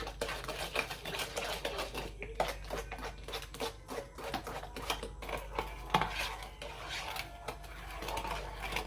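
Cake batter mixed by hand in a bowl, rapid rhythmic clinking and scraping of a utensil against the bowl, quiet and close, with brief pauses between bursts of stirring.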